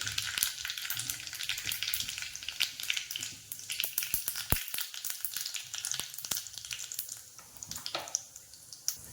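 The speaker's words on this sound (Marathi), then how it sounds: "तेल तापलेलं आहे त्याच्यात टाकूया मोहरी थोडीशी जिरी" Mustard seeds and a little cumin sizzle and crackle in hot oil for appe, a dense steady fry with sharp seed pops throughout, close and unbroken by talk.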